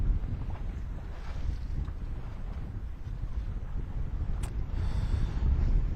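A sailboat running under its genoa in the wind, with a steady broadband rush of wind and water and buffeting microphone noise throughout. No voices.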